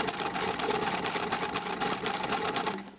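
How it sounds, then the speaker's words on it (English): Sewing machine stitching fabric for a frilly baby top, a steady close mechanical whir with a rapid needle rhythm that runs continuously and then stops at the very end. "and just keep sewing"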